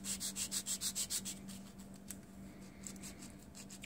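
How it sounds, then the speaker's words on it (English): Sandpaper rubs steadily against a small part for a Titanic wreck model diorama, with about eight rhythmic close strokes, then softer, irregular scraping with no talk. "Right, sand it down some more."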